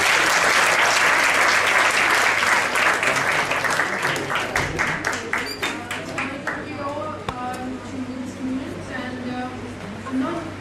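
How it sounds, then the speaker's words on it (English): Audience applause at an institute event, loud sustained clapping from a crowd that gradually thins into scattered claps, with a voice speaking over the tail end. "I'd like you to give a big round of applause to Rabia Nizami"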